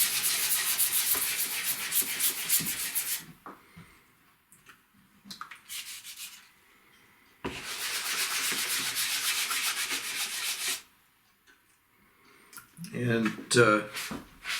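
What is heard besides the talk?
wet sanding walnut wood with 3M Pro Grade Precision sandpaper on a block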